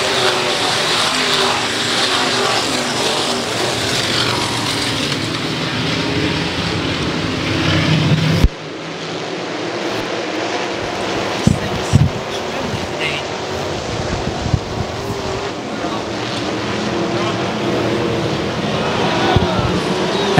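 IMCA modified race cars running at Ionia Raceway Park, a constant broad engine roar heard from a distance and mixed with wind buffeting the microphone, with a few sharp knocks and one sudden drop in level.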